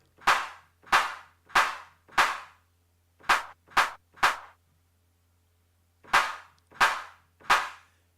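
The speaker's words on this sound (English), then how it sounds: "Let's say we want reverb on our clap." Reverb-soaked clap sample from an Ableton drum rack, triggered ten times in groups of four, three and three, each sharp hit trailing into a short wash of reverb, with silent gaps between the groups.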